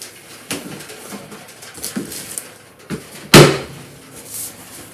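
A drawer is opened during a search for powder: soft scrapes and taps build to one sharp wooden knock near the end, over a quiet indoor room with no talking.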